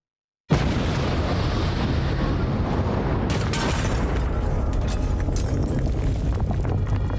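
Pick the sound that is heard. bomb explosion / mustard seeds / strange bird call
bomb explosion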